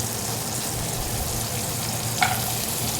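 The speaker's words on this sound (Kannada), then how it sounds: "ಅದೇ ಪ್ಯಾನಿಗೆ ಈರುಳ್ಳಿ ಶುಂಠಿ ಬೆಳ್ಳುಳ್ಳಿ ಫ್ರೈ ಆಗಲಿ" Onion, ginger and garlic fry in a hot pan for palak shahi paneer, giving a dense, steady close sizzle with one brief scrape of stirring near the end.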